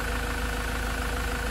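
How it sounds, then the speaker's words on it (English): A rebuilt Land Rover Defender with the Puma 2.4 TDCi diesel engine idles steadily and up close, a constant even drone without ticking. "You can hear the difference now in the tone of the engine."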